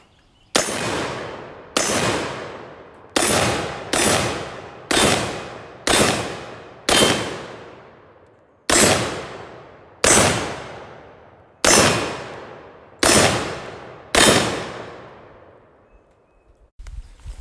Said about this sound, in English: But I want to see what some rifle rounds will do to it.